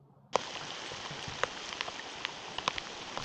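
Rain falling during a storm onto a hammock tent, a sudden onset of dense steady patter with scattered louder drops striking the fabric close by.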